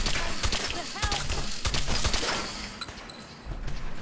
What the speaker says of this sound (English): Your sniper shoots fast.